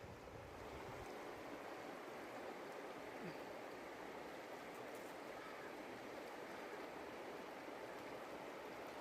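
Flowing water of the Ganges river at a bathing ghat, a steady broadband rush that runs unbroken and fairly close, with no voices over it.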